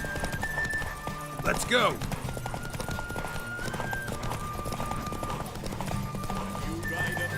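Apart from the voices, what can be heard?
horse galloping, Roach in The Witcher 3 video game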